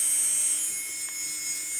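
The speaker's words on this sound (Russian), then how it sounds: "мы произвели аппаратную обработку, пользуясь только одной фрезой" Electric nail drill with a single bit filing a natural fingernail during a gel strengthening manicure: a steady high-pitched whine runs throughout with faint scraping texture, close and continuous, no talking.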